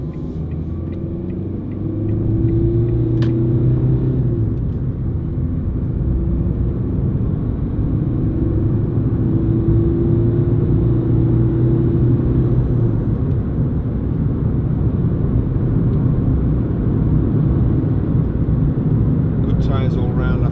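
Tyre noise fills the cabin of a moving Ford Fiesta 1.4 TDCi three-door panel van as a steady low road rumble and drone. Someone talks over it at close range.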